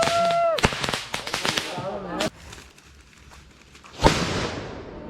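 Firecrackers going off at an outdoor Christmas celebration: a few sharp, loud bangs spaced apart, each with a short crackling tail, mixed with people talking and calling out nearby.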